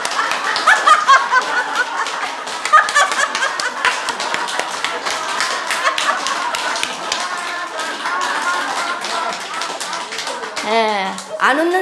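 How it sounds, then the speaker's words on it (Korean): A church group laughing together while clapping along in a laughter-therapy exercise, rapid rhythmic claps and chuckles from many people filling the room, with a leader's voice speaking over them throughout. "자, 박수 치면서 웃는데요"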